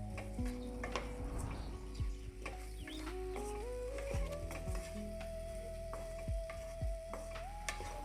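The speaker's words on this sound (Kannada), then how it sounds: "ಚೆನ್ನಾಗಿ ಮಿಕ್ಸ್ ಮಾಡ್ಕೊಳ್ಳೋಣ." A powder mixture for a sweet bread dessert is stirred in a pan, with soft scraping and light clinks of a spoon against metal over a background hum, no talking.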